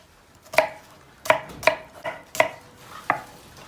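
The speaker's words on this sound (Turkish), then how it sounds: "Soğanları doğrayalım." A knife chops onions on a cutting board in sharp, separate knocks, six of them at an uneven pace, close and crisp with no talking.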